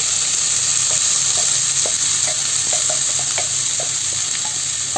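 A chopped banana flower mixture with shallots fries in a pan for thoran, giving a loud, steady sizzle broken by soft scraping ticks of a spoon stirring it through.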